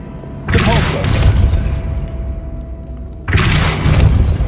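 A Depulso force spell blasts twice in Hogwarts Legacy: two loud, broadband whooshing bursts, each with a heavy low thud, separated by a quieter lull of ambient game sound.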